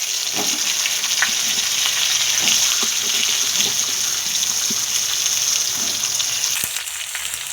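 Sliced ridge gourd sizzles loudly in hot oil in a pan, a continuous close crackle broken by a few soft scrapes and knocks, fading slightly near the end without anyone talking.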